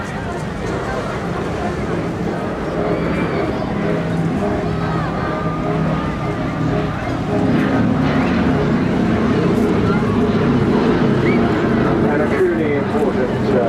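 B-17 Flying Fortress flying over the sea at Eastbourne, its piston engines a steady, loud drone that grows heavier partway through, heard under a commentator's voice and crowd chatter.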